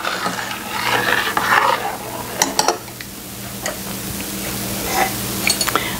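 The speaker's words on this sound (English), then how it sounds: "You want to stir this often." A spoon stirs a chocolate cake mixture in a pot on the stove, with soft scraping swirls and several sharp clinks against the pan at intervals, close up and without talk.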